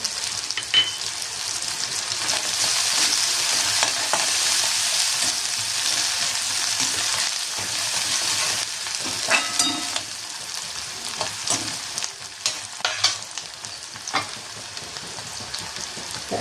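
Curry leaves crackle and sizzle in hot oil for a dense, loud spitting hiss, then the popping thins out into scattered sharp crackles and a few utensil taps near the end.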